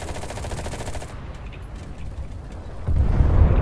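Machine-gun fire in the World War II shooter Enlisted rattles as a dense, continuous fusillade. A harsher, louder burst kicks in near the end, with no voices over it.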